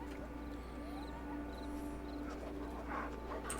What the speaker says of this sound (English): This poor dog, he's constipated.